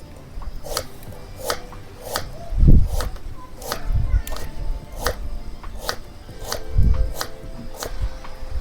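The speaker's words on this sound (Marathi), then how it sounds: "कांदा कापून झाला" An onion being chopped with a knife, probably on a board: a steady run of sharp close taps about twice a second, with a few heavier dull thumps mixed in.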